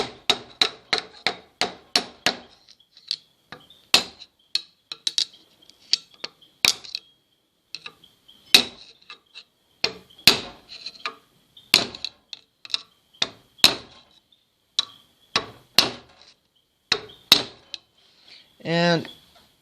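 Hammer blows driving a wheel bearing into a Massey Ferguson 240 tractor hub, a long run of sharp metallic strikes in uneven rhythm, close and loud, with a brief ringing scrape at the end.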